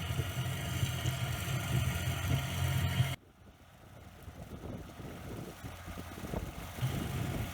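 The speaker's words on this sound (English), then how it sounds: "So you can hear the tractor revving here." A Fordson tractor engine runs in the PTO rev range in second low while mowing a paddock with a slasher, a steady loud drone that abruptly drops to a quieter rumble partway through, with no talking.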